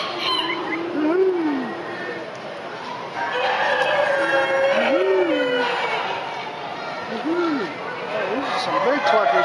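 Chickens at a state fair, repeated rising crow-like calls and clucks from nearby fowl amid a busy crowd, with people talking throughout.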